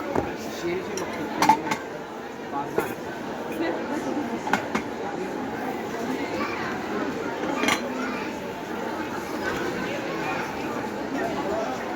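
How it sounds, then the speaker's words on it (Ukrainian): Pots and pans clank and clink sporadically in a busy shopping centre in the Netherlands on Black Friday, with people talking in the background. "Набір кастрюлек."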